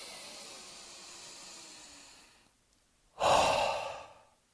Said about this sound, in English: Now let's take some deep breaths again.